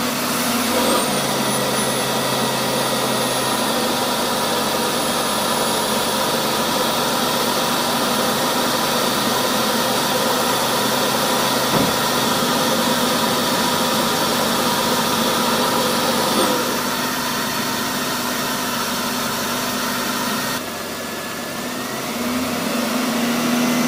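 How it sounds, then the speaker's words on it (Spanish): A car engine idles steadily during injector cleaning with a pressurized cleaner canister, a continuous close mechanical drone with a faint whine, easing slightly near the end. "ahora sí voy a proceder a arrancar el vehículo"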